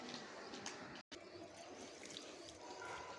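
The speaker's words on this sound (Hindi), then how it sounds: "पानी डाल दे रहे हैं उसमें" Water pours for hand washing, a steady broadband trickle and splash running almost the whole time with one brief break, fairly faint and close.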